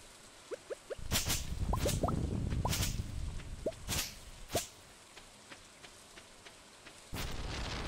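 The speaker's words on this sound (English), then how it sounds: "Lightning's kicking off." Stardew Valley summer storm rumbling with rain and sharp lightning cracks: a dense rainy rush for a few seconds, punctuated by several loud snapping strikes, then quieter with scattered cracks and rain returning at the close.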